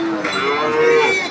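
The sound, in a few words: cattle mooing at East Java market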